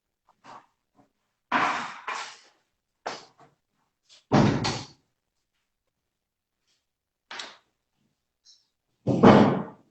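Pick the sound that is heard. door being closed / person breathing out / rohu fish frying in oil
door being closed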